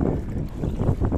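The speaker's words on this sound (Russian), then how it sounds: "Рябь по воде, ветер." Wind blows across rippling water during the first launch of a Timetrial Fishkayak EVO, a steady, rough rush of wind and water that stays close and loud with no voices.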